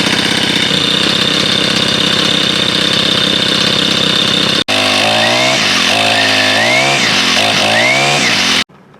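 A small four-stroke grass trimmer engine runs steadily at a constant buzzing idle, cuts out briefly, then restarts and revs up and down in several swells before stopping abruptly.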